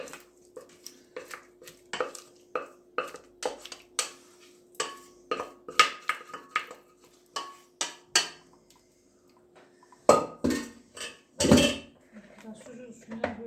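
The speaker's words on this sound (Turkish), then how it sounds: "Patatesleri süzüyorum." Boiled potatoes tipped out of a metal pot to drain, giving a steady run of close clattering knocks and scrapes, then a few louder clangs and a brief rush near the end, with no talking.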